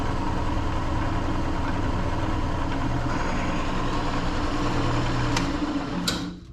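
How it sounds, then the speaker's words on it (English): A wood lathe runs steadily close by with a constant motor hum and whir, ending in a couple of sharp ticks as the tailstock is advanced for a candle holder project. "I'm going to turn on the lathe and then advance the tailstock."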